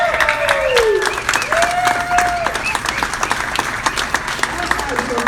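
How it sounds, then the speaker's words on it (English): Round of applause from a standing audience honoring contributors at a mural dedication, dense clapping running steadily throughout with a voice briefly rising over it. "so we can give you a round of applause"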